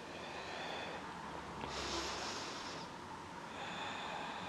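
One long, breathy exhale during a gentle yoga flow, a soft rushing breath rising over steady low background hiss and fading after about a second.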